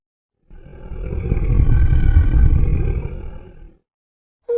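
A beast lets out one long, deep, rumbling roar that swells, holds for about three seconds and fades, loud and close, followed by a brief silence.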